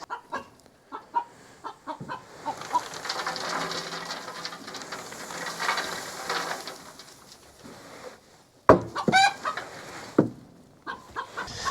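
Chickens cluck and squawk in a coop, with short bursts of clucking over a soft background rustle and a few sharper, louder calls near the end.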